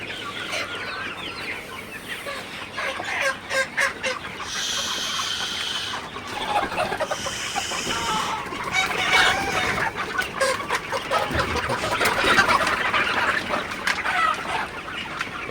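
Several Sonali hybrid chickens cluck and squawk close by in the morning, overlapping calls with a brief crow-like cry, over a rustling farmyard background.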